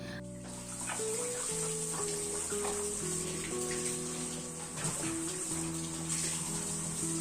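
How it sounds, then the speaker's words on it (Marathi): Tap water runs steadily into water vessels as they fill, a continuous rushing stream with ringing tones that shift in pitch, close and alone. "7:30 वाजलेत आणि पाणी पण आलं आहे. तर आधी मी पाणी भरून घेते"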